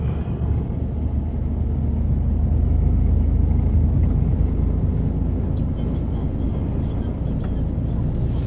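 Truck engine droning and road rumble as it pulls onto the main highway on a trip to Busan, a steady loud roar from start to finish.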